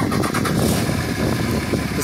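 A black diesel vehicle's engine revs steadily and loudly from nearby, a continuous rumbling drone with no talk over it.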